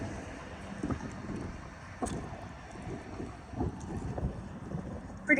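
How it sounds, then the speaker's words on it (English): Strong gusting wind outdoors at an old train station, buffeting the microphone with a continuous low roar that swells in bursts, with no talking. "It's super windy, but I'm going to try to read it."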